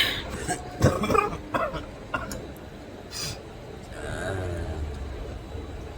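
A man sick with fever coughs in a quick cluster of harsh, close bursts early on, followed by quieter indoor background with faint rustling and hum.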